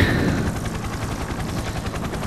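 A helicopter hovers overhead in the Persona 4 Arena Ultimax video game, a loud, steady rotor chop with a low rhythmic thumping that holds evenly throughout with no voices.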